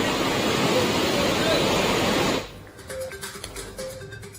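A flooded river rushing with floodwater, a dense, loud, steady roar of flowing water that cuts off abruptly partway through into quieter background noise with faint voices.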